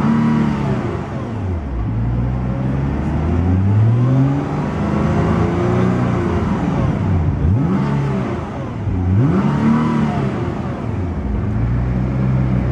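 A 2010 Nissan GT-R Premium revs repeatedly against its rev limiter, with the exhaust rising and falling in loud, sustained sweeps up close.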